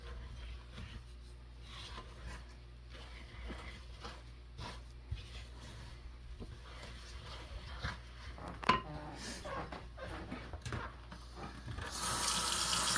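Warm water runs steadily from a tap in the background for pizza dough, fairly quiet, with some rubbing and handling noises and a brief louder gush near the end.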